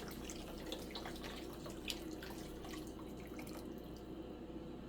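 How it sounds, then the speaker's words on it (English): Water runs steadily from a tap into a pot of peas while cooking rice and peas for Sunday dinner, a continuous splashing, trickling stream with a few drips, fairly quiet and close, with no talk. "So I'm gonna sink the peas with some water."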